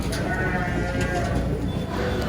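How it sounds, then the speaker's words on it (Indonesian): Garut sheep at a busy livestock market in Tanjungsari, Sumedang, with a dense crowd murmur and nearby bleating blended into the steady noise while people talk. "Tuh domanya cukup lumayan besar, cukup agresif juga nih domanya."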